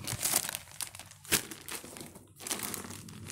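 Scissors cut open a plastic package of Malaysian radik coffee, producing close, crinkly rustling and crunching bursts with brief pauses in between.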